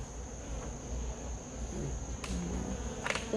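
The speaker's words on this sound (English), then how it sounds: "The bees are eating this canvas." A faint, steady insect buzz fills the air, fitting bees working around a painted canvas outdoors, with a few soft clicks and knocks nearby and no speech.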